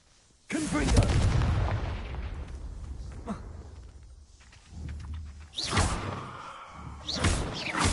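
A Confringo fire spell cast in the Hogwarts Legacy video game, a sudden whooshing blast with a booming body that fades, followed by further sharp bursts and swishes close by.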